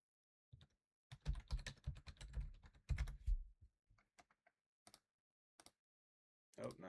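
Fingers tap out a search on a computer keyboard, with a dense burst of rapid keystrokes followed by scattered single clicks and pauses, close and fairly quiet.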